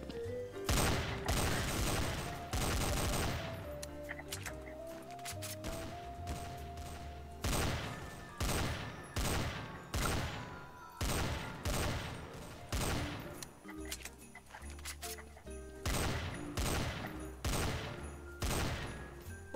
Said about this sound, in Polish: Tak wygląda z boku strzelanie